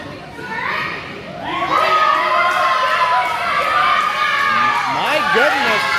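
A wrestling crowd roars and cheers loudly for a female wrestler named Kyra, with shrill, excited voices rising and swelling continuously throughout.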